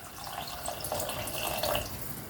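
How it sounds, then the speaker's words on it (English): Water pours into a rogan josh curry, a soft, steady splashing trickle heard faintly and close for a couple of seconds without any talking. "we're going to add in a little bit more water"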